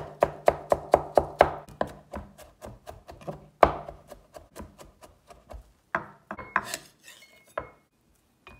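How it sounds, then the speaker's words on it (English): A knife chops garlic on a cutting board in a fast run of crisp, evenly spaced taps, then slows into scattered, uneven knocks and scrapes, close and clear with no talking. "Let's mince the garlic."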